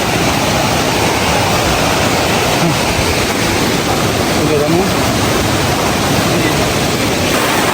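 Strong stream current rushing along a hill trail between Thongoi Para and Raun Para, a loud, steady roar of churning water filling the whole clip with no letup.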